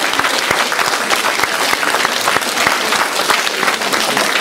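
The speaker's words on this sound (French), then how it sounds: "on peut applaudir les trois lauréats" Steady, dense applause from an audience at a 2013 visual arts exhibition in Saint-Hilaire-Saint-Mesmin, greeting three prize-winning artists; sustained clapping throughout with no talk over it.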